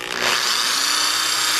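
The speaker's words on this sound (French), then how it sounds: "Puis, je vais percer ici" A power drill bores a hole through the tray of a cardboard bird feeder: a short, loud, steady whirring burst close up, starting abruptly and running evenly to the end, with no voices.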